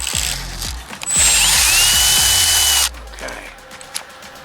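Power drill boring through a boat trailer coupler with a sharp bit, a loud continuous whine with shifting pitch lasting a couple of seconds, framed by shorter ratcheting mechanical bursts before and after.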